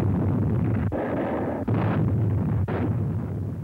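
Heavy naval gunfire pounds Mount Suribachi on Iwo Jima, a dense, continuous roar of booming artillery with a few brief gaps, loud and close throughout, with no voices.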